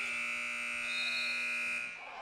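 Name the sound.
basketball game buzzer at end of quarter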